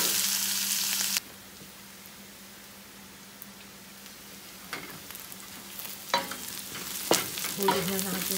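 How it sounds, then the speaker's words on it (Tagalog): Onions sauté in a pan for a simple spaghetti. A loud opening sizzle drops to a softer hiss, then irregular stirring scrapes and crackles build toward the end. "Igisa hanggang maging translucent yung"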